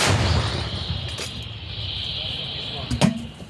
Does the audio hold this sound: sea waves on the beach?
no